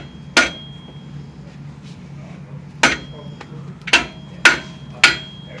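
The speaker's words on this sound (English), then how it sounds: "you hear the pitch of the hammer change when you struck it?" Hammer blows strike engine parts in a workshop, five sharp metallic impacts spaced irregularly, close and loud over a quiet background.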